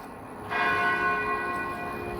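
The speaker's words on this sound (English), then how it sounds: "Turns out it's just the church bells." A church bell strikes once and its bright, ringing tone hangs and slowly fades, clear and fairly close.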